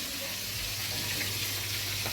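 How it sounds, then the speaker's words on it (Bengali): Aar fish frying in hot oil gives a dense, continuous hissing sizzle that stays loud and even throughout, with no voices. "এটা আইর মাছ ভাই এনেছে, কিছু মাছ ভাজা হয়ে গেছে।"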